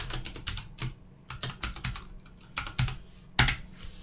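Fast, uneven typing on a computer keyboard while writing a Unity C# script, close and crisp keystrokes in quick runs with brief pauses and one louder final tap.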